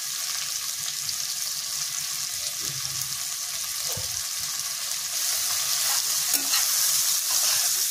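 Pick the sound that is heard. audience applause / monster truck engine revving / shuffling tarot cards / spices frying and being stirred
spices frying and being stirred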